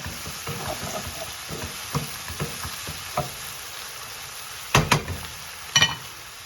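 Green and red chilies are stirred in a hot frying pan, giving a continuous sizzle with scattered spatula scrapes and two louder knocks near the end.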